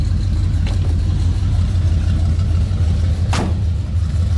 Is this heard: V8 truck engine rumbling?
yes